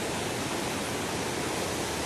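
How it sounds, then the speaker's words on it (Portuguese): Floodwater rushes down a street after Christmas Day rain in Santa Inês, Bahia, a steady loud broadband roar with no breaks. "Lá a chuva aí, a água enxurrada."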